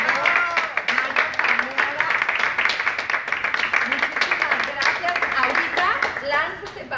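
An audience at a DIF Sinaloa event giving away tickets to The Lion King premiere claps and applauds steadily for several seconds for Cinépolis and a senator, a dense patter of many hands mixed with crowd noise.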